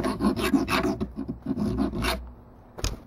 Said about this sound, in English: So I'm gonna do that with the vise and with the file.